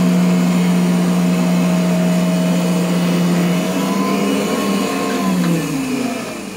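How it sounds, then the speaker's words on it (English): A vintage German commercial vacuum cleaner, a Nilco Fakir 271 type with an aggressive brush roll, runs loud and close with a strong steady motor whine and hum, its pitch sliding lower near the end as it winds down. "Evil possessed German commercial vacuum cleaner."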